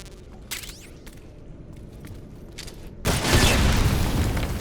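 Barrels hit by 1911 pistol fire burst in a loud explosion in Metal Gear Solid Delta, preceded by a few sharp shots and clanks, then a sustained roaring blast that lingers.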